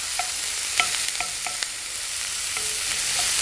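Onions sweating in a pan on a camping stove, with a steady soft sizzle throughout and a few light clicks and stirring taps over it.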